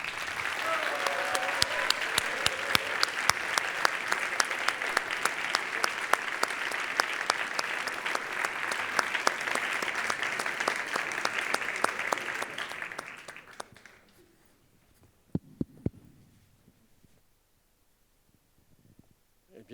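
Loud, sustained audience applause at a community celebration event fills the room for about thirteen seconds, then fades quickly, leaving near silence broken by a couple of faint knocks.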